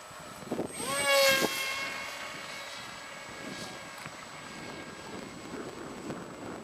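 Model airplane coming in to land on a moving toy car, a rising and falling motor whine that swells as it passes close by, then fades into a quieter outdoor background.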